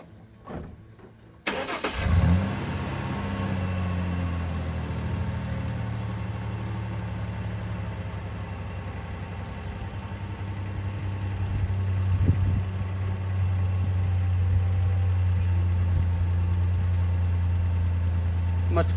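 A 1998 Ford Ranger pickup engine starts up and settles into a steady, deep idle through a new, quieter exhaust, a low rumble holding close and continuous with slight swells in level.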